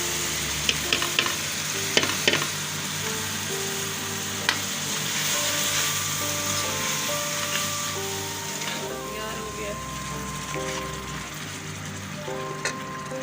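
Potato and fenugreek sabzi with spices frying and being stirred in a pan, a steady close sizzle with scraping stirs and a few sharper clinks, no talking.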